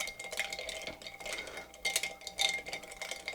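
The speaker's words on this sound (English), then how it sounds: "You want to stir, generally, I'll say 30 to 40 seconds, probably more towards 40 seconds, just to kind of really get that cocktail chilled" A cocktail is stirred with a bar spoon among ice, giving a continuous near, gentle clinking and rattling that swells and eases in a loose rhythm, with no voices.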